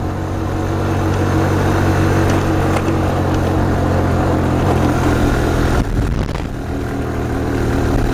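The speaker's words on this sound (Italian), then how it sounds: "Ecco, qui abbiamo un salitone, prendiamo la rincorsa" A motorcycle engine labors loudly up a steep hill on a rough secondary road through the Borneo forest, its rumble steady and close with a brief change in pitch near the end as it shifts or eases.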